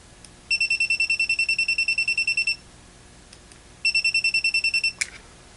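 Voltage tester touched to the metal sleeve of a switching power supply charger, giving rapid high-pitched electronic beeping in two bursts, the first about two seconds long, the second shorter, with a faint click between.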